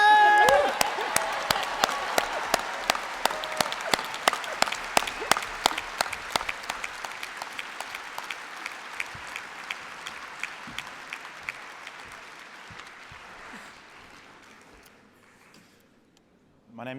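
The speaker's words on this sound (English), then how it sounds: "And to you all, I say, a round of applause." Applause from a Labour Party annual conference audience, loud and dense at the start, then thinning into scattered claps that fade over about fifteen seconds before a brief final burst.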